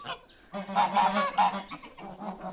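Geese honk loudly in a rapid cluster of nasal calls, close by, then taper off into softer honks.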